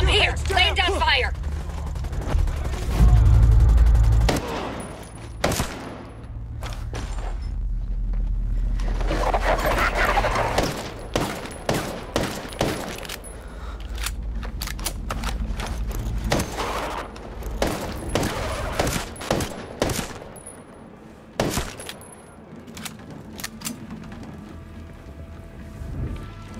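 Gunfire in Ghost Recon Breakpoint video game during a night operation: scattered single shots and rapid bursts crackle over nearly half a minute, some close and sharp, others lighter, with a heavy rumble early on and voices at times.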